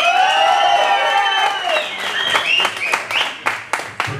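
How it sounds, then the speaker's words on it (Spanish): A crowd at a birthday party with a mariachi band breaks into applause and cheers. Sustained tones fade into scattered, increasingly distinct claps close by, with voices mixed in. "Un aplauso, a ver, una bulla."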